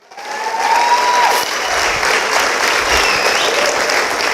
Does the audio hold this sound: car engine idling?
no